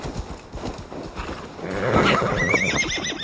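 A horse in the Assassin's Creed Valhalla video game whinnies on a snowy route, its rising neigh standing out clearly over steady clip-clop hoofbeats, loud and close.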